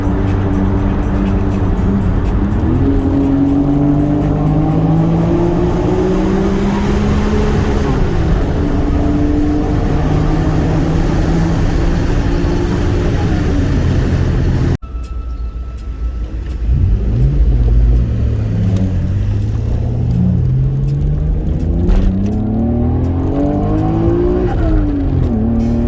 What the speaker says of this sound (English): show some shifting through the gears, free revving, open it up on the freeway a little bit